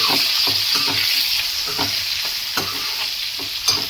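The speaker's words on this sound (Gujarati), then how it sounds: "હવે આપણે એને મિક્સ કરી દેવાનું છે" Steady sizzling from a hot pan of stuffed okra with turmeric, a spatula scraping and stirring in repeated strokes, close by, no voices.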